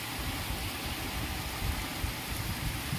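Heavy village rain pouring steadily, a dense, loud hiss of drops hitting surfaces with no pauses, continuous and close.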